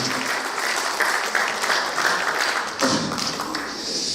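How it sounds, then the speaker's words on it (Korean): A book concert audience in Korea breaks into sustained, fairly loud clapping, with dense overlapping hand claps and a few sharper thuds throughout, no talk. "그 주역이 여러분께 크게 좀 박수 한번 다시 부탁드리겠습니다"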